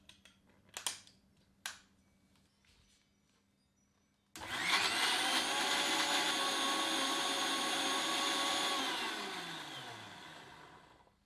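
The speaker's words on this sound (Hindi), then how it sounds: "अब इन सब को महीन पीस लेते हैं।" After a few soft clicks and taps, a blender abruptly starts grinding fenugreek, ginger, garlic and green chilies into a fine paste, giving a loud, steady whirring whine for about five seconds before it winds down.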